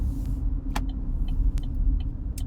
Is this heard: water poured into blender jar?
no